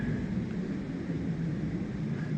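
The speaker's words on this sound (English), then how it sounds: "that's the first jet noise I've heard in like 3 or 4 days" Steady, broad low roar of a jet aircraft passing high overhead above a mountain meadow on the Pacific Crest Trail, continuous and fairly faint with no voices.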